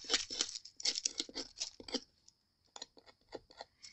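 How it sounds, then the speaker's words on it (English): A craft knife cuts jagged tails on a small wooden butterfly decoration, giving quick close scratchy strokes in two bursts with a short pause between, crisp and fairly quiet. "Get my little tails because I want them jagged. Cut up with this knife."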